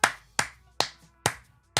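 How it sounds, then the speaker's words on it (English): One person claps slowly in a sparse round of applause, five sharp, evenly spaced hand claps close by in a quiet room. "Big round of applause."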